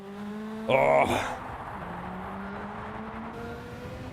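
Racing car engine in a driving video game, a steady droning engine note with a sharp burst of revving and tyre noise early on, while someone talks over it.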